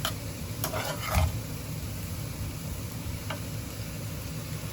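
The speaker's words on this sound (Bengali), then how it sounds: "আলু ভাজি উঠিয়ে দিচ্ছি, চুলায় ধরা দিচ্ছি একসাথে" Potato bhaji frying on a stove gives a steady soft sizzle, broken by a few brief scraping stirs of the utensil against the pan.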